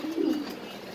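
Pigeons at a pigeon farm give a single low, throaty coo close by early on, followed by quiet room tone.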